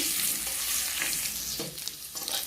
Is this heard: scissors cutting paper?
no